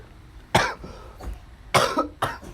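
A person coughs in several sharp bursts, two pairs of close, forceful coughs with a quieter throat-clearing sound between them, and no speech.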